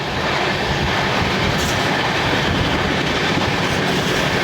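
A Gaya–Delhi Amrit Bharat Express rumbles along steadily from on board, with a loud, continuous roar of wheels and rail noise while it overtakes a freight train running on the parallel track.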